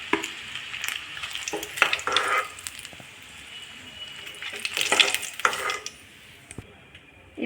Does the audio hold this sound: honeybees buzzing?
no